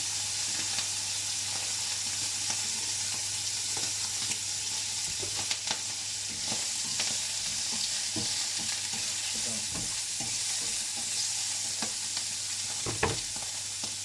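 Carrots, peppers and mushrooms fry in a pan with a steady, close sizzle and hiss throughout, broken by occasional scrapes and knocks of stirring, with no one talking.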